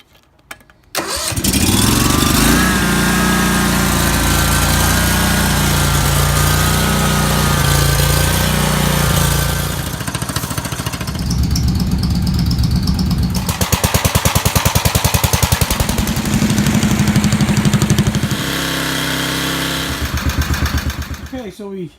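A snowblower engine starts after a brief pull and settles into a steady, loud running drone, revving slightly and running on for warm-up, close by and continuous.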